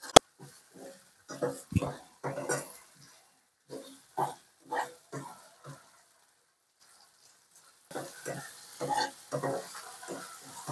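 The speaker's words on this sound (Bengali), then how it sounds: "সামান্য পরিমাণে জল দেব, দিয়ে এটাকে আমরা হালকা করে কষিয়ে নেব।" Yogurt chicken curry being stir-fried in a pan with a little water: intermittent bursts of scraping and sizzling from the spatula, with a brief quiet pause partway through.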